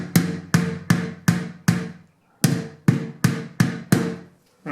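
Nine or ten sharp hammer blows ring out close by while a door peephole is installed, striking in a fairly steady rhythm with a brief pause midway.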